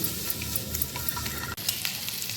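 Ingredients for egg masala roasting in a pan, giving a continuous close sizzle with light stirring scrapes and a brief dip near the end.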